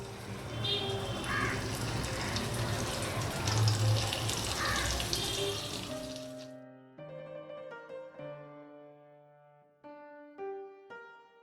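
Prawns hit hot mustard oil in a pan for a Bangladeshi chingri malaikari, giving a loud, steady sizzle for about six seconds before it gives way to soft background music.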